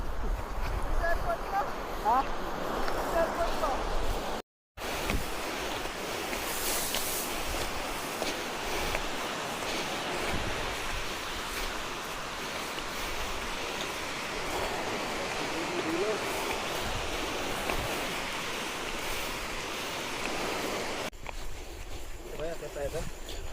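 A mountain river on a ridge traverse in Bukidnon, Mindanao, rushes with a loud, steady broadband roar that fills the whole stretch, with a brief cut partway through.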